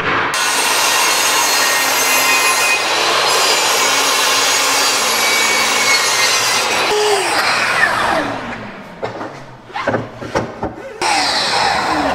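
Wood being sawn on a workbench during floating shelf construction, a long steady loud rasping stroke for several seconds that then breaks into rougher, uneven cuts and pauses, heard up close.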